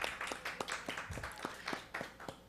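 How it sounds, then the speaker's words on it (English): Attendees at a public outreach meeting clap in a faint, sparse round of applause, with distinct individual claps spread out at an uneven rhythm and no talking over them. "give yourselves a round of applause"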